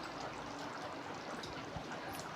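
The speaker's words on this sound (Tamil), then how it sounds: "அந்த புளி தண்ணியை ஊற்றியாச்சு" Tamarind water pours into a simmering dried-fish curry, giving a soft continuous trickling and splashing that runs steadily and fairly quietly.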